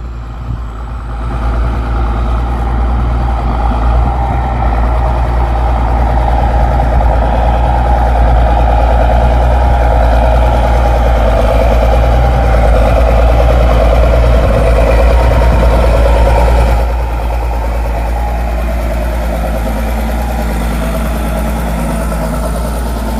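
A large turbo tractor engine, a 7840 ploughing muddy soil, rumbles steadily with a deep, throbbing low hum, running continuously close by without any voices.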